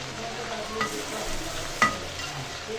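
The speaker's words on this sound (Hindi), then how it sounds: "चिकन हमारा हो चुका है फ्राई।" Chicken pieces frying in a pan for milk korma give a steady close-up sizzle, with a couple of brief scraping stirs breaking through the hiss.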